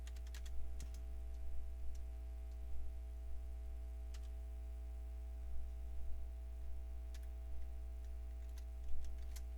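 Keys on a computer keyboard clack in short irregular bursts of typing, faint and close, over a steady low electrical hum with no talk.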